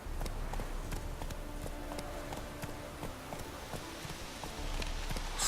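Roach the horse galloping in The Witcher 3, a steady run of hoof clip-clops heard fairly close over a low ambient game bed, continuing without pause.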